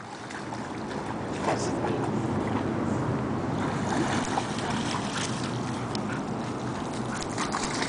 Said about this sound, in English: Oh, there's the ducks.